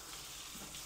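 Water runs from a tap at weak pressure during a dog bath at home, a soft, steady rushing hiss that stays fairly faint and even for under a second.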